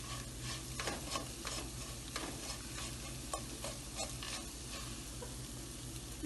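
Gujiya filling roasting with sugar in a pan gives a steady close sizzle and crackle, with frequent light scrapes and taps of a stirring spoon and no voices.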